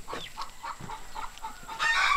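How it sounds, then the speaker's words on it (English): Chickens at a coop made from an old trailer give short, soft clucks in a loose, uneven rhythm, close by, with a louder burst at the end. "And Mrs. Cog Hill's favorite chicken, Miss Cleopatra, right behind him."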